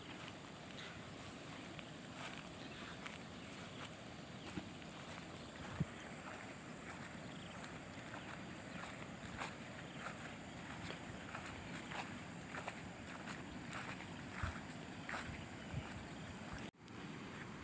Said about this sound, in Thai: เนี่ยโอ้เสียงน้ำไหลดังมากครับ